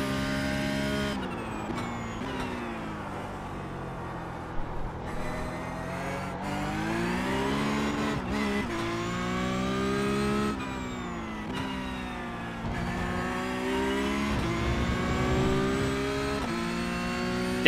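A Porsche race car engine in the iRacing sim holds a steady, loud, continuous tone throughout, its pitch rising and falling with repeated shifts and throttle changes, with no talking over it.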